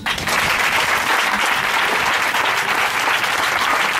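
A congregation at a Sunday church service bursts into loud, sustained applause for the Lord, a dense roar of many clapping hands that carries on evenly throughout.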